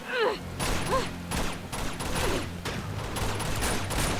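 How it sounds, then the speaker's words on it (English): A burst of rapid gunfire rings out in a firefight in the video game Uncharted 2: Among Thieves, with several quick shots, fast and loud, among action sounds. "I can't punch the guy choking Chloe, so I have to shoot him"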